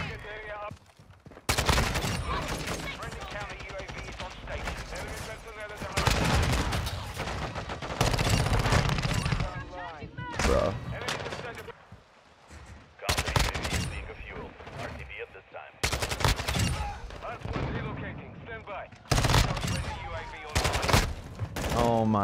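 Rapid bursts of AK74U (Kastov-74U) automatic gunfire in Modern Warfare 2, loud and close, in repeated volleys separated by short gaps, with other battle noise around them.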